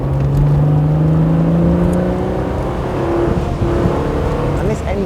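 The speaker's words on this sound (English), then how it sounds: "this engine sounds so brawny, even from the low to mid-range" An Alfa Romeo 33 Stradale V6 car engine revs up, its pitch climbing steadily as it accelerates, loud and close, with a throaty rising whine.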